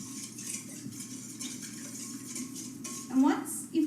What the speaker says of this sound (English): you're going to take your whisk again and whisk everything all nice and together